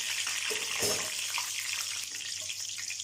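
Nutmeg and green cardamom sizzling in hot oil, a bright hissing fry with a sharp burst of crackle early on that settles into a steady sizzle, close and moderately loud.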